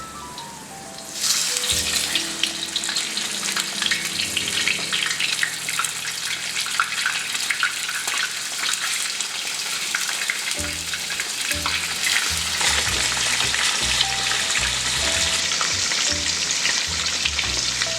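Chicken frying in a pot of hot oil for Uzbek plov: a loud, steady sizzle that bursts in as the pieces go in and keeps hissing close up, with some clattering stirring later and no talk.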